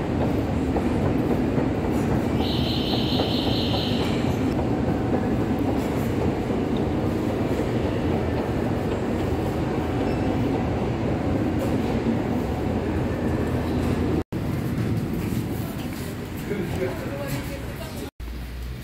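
A Saint Petersburg metro train at Vladimirskaya station rumbles and clatters loudly and continuously, with a brief high whine early on and voices faintly underneath.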